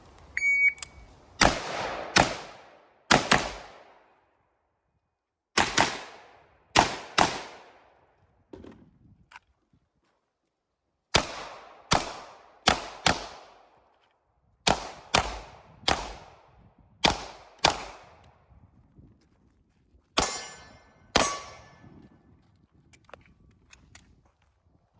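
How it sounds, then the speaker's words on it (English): Gunshots ring out on a practical shooting course as a shooter engages eight steel target plates, sharp cracks arriving in quick pairs and clusters with short pauses between strings, loud and close with no talking. "from the other box, you have to engage all 8 of the steel plates"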